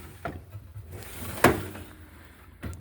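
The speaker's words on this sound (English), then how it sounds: "This is a big drawer full of stuff." A big drawer of a mechanic's toolbox slides open with a low rolling rumble and a firm clack, followed by a faint rattle of contents at close range.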